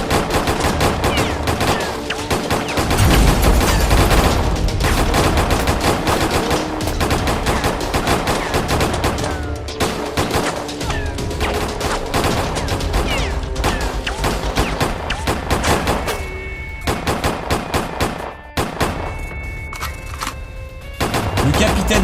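Automatic gunfire from a game of Roblox Brookhaven rattles on loudly in long, dense bursts, almost without pause, for the full stretch.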